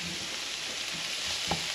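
Ingredients for a lobster ravioli sauce fry in a pan, giving a steady, close sizzle with a small stirring clatter near the end of the short stretch.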